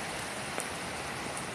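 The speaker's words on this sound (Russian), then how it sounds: "Везде вот такие вот ливневые потоки." Torrential rainwater streams rush along a flooded Moscow street after a downpour, a dense, continuous watery hiss close to the microphone with no speech.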